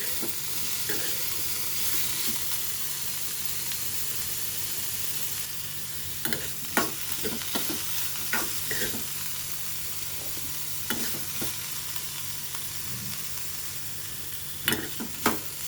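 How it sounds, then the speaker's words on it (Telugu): Boiled cauliflower pieces fry in hot oil, a dense steady sizzle that later carries a series of clattering, scraping stirs close by. "ఇవి ఉడికిపోయిన ముక్కలే కాబట్టి ఊరికే ఒక్క నిమిషం నూనెలో అలాగా వేగితే టేస్ట్ బాగుంటుందని వేసాను"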